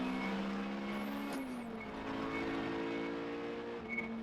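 Race cars in qualifying at Rockingham pass on track with a steady engine drone and a brief rising whine as one goes by, fairly distant and moderate in level.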